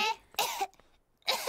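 Someone with a contagious cough coughs in short, sharp bursts, three harsh, close hacks separated by brief pauses, with a throat-clearing quality.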